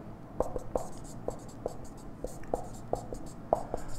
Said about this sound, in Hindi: फिर से मैं लिख दे रहा हूं आपके लिए